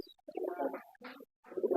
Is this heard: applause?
no